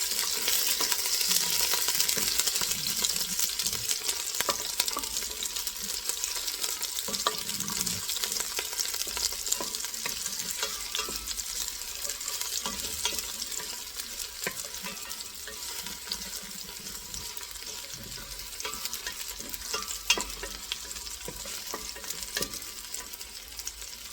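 Garlic frying in a pan until golden, a steady bright sizzle running throughout with occasional stirring clicks and scrapes, no voices.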